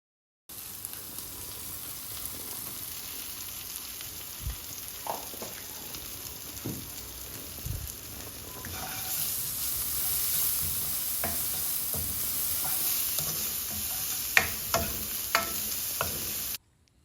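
Onions and chilies fry with salt and turmeric in a pan, making a steady soft sizzle broken by scattered scrapes and taps from stirring. No one speaks.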